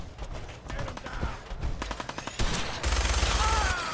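Rapid machine gun fire in the video game Fallout 4, bursts of close, sharp gunshots building into a sustained rattling volley near the end.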